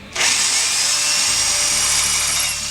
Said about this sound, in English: Use a 3/8 drill bit and drill a hole through the original track bar bracket.